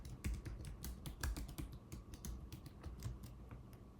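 Quick bursts of keystrokes on a computer keyboard as login credentials are entered, close and fairly quiet, with irregular clusters of clicks and no voices.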